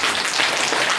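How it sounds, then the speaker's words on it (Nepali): Loud, dense applause from an audience at a Brahma Kumaris gathering in Hetauda for Shree Krishna Janmashtami, steady and unbroken throughout. "त्यो जोरदार ताली बजाइदिनु।"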